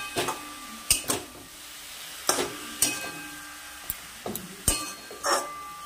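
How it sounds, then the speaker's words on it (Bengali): Pea greens with a snakehead fish head being stirred in a pot, a series of sharp scraping clanks from the spoon against the metal, spaced irregularly, over a faint sizzle. "চলো এবার একটু নাড়িয়ে দিই।"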